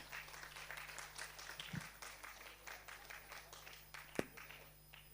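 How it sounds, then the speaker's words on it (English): Audience applause at a Metro Railway Kolkata technical seminar, a steady wash of many hands clapping at moderate level from start to end, with a hum in the background. "I request everybody to please keep your hands clapping."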